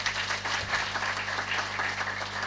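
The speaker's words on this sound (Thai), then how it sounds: "ขอพลังเสียงปรบมืออีกครั้ง" Audience applause at a Thai team recognition event, dense steady clapping from a crowd filling the whole stretch at moderate loudness, with a low hum underneath.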